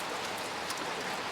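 Heavy rain pours steadily in a cold, remote setting, a dense, even hiss of drops with no pauses and no voices.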